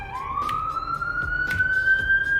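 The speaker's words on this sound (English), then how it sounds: "Ambulance." A rising, wailing siren from an ambulance sweeps upward and holds steady, heard at a distance against background noise, with a few faint knocks under it.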